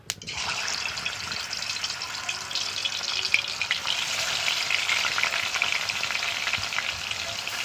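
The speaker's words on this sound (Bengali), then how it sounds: "তেল দিয়ে দিলাম তো মাছগুলো ভেজে নেবো" Steady, loud sizzling of fish frying in hot oil in a kadai, continuous throughout with occasional small pops and no voices.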